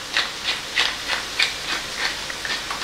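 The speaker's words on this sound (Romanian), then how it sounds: "Am să pun și câteva ture de piper proaspăt măcinat." A hand pepper grinder cracks fresh black peppercorns in a quick series of about nine gritty bursts, evenly spaced and close, with no voices.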